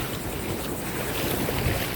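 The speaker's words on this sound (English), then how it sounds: "Ah, there's so many waves." Small waves wash steadily along a beach on the intracoastal waterway, a continuous broad rush heavily mixed with wind buffeting the microphone, with no distinct breaks or voices.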